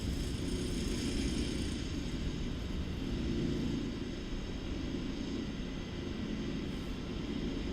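A Boeing 737's jet engines roar at full thrust through the takeoff roll and rotation in Microsoft Flight Simulator 2024, a loud, steady broadband rush with a high whine above it, easing slightly partway through.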